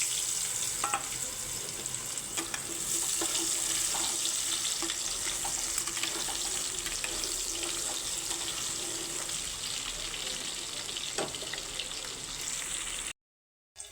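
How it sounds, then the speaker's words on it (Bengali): Onions sizzle in leftover fish-frying oil for a village-style rui fish curry, a continuous close hiss with scattered pops and light stirring, ending in a brief cut to silence. "ওই মাছ ভাজার তেলেই আমি এখন পেঁয়াজ দিয়ে দিচ্ছি"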